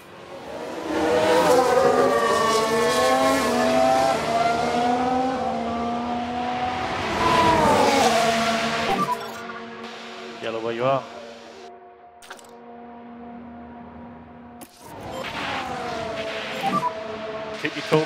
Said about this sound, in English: We've just had a spin.